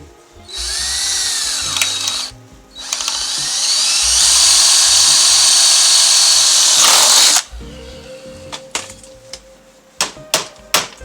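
A power drill whines loudly in sustained bursts while working on a Toyota Tundra truck door, then stops; afterward come scattered sharp clicks and knocks of tools being handled.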